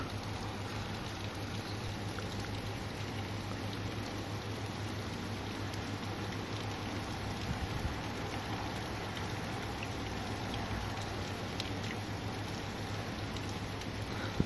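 Heavy rain in a thunderstorm drums on without pause, a uniform, dense hiss sustained at one level throughout, with no talking.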